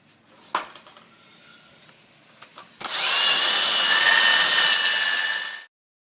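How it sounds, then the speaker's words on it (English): A loud, steady power-drill whine runs for about three seconds as rivets are drilled out of an RV awning, preceded by a few faint metallic clinks and taps. "drilling out all the rivets on that side, same as we did on this side"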